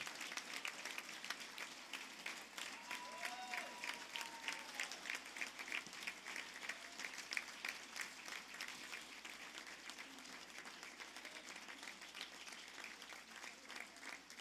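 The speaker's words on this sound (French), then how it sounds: "applaudissons encore une fois nos diplômés de la cohorte 2024" An audience in a hall at a 2024 university graduation ceremony in Saint-Jérôme applauds the graduates, a steady, fairly soft clapping that continues throughout with no voices over it.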